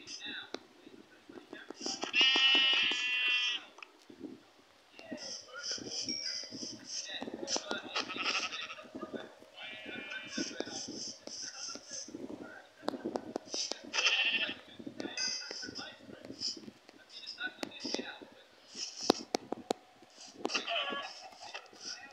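Sheep bleat repeatedly at close range, with loud wavering calls in bursts and short gaps, while people talk quietly among them.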